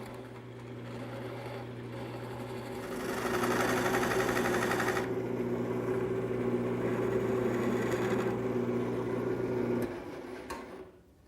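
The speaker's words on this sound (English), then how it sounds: "I'm going to use my skew chisel" A skew chisel cuts a spinning wood turning on a lathe, with a steady motor hum and a rising hiss of the blade scraping the wood for several seconds before the motor winds down.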